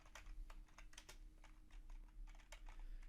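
Text gets typed on a computer keyboard in rapid, close, irregular key clicks over a low steady hum, with no talking.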